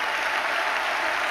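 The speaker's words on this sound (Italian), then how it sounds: "Un grande applauso per Natalie Imbruglia." An audience applauds Natalie Imbruglia at an Italian awards ceremony, Arena Suzuki 2023. The clapping is steady and dense throughout, with no voices over it.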